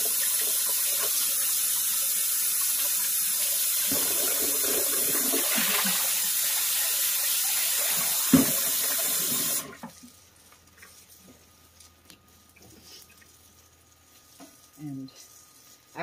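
Water gushes steadily from a tap into a kitchen sink for several seconds, then shuts off, leaving quiet kitchen clatter and a brief voice.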